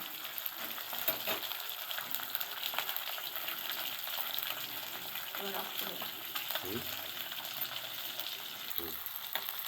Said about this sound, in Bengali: এবার ফলি মাছটা ভাজছি।